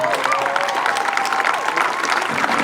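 An audience at a community event bursts into steady, close applause with some cheering, a dense wash of clapping throughout.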